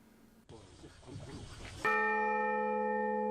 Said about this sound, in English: then it rang out for the first time